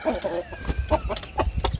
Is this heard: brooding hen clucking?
yes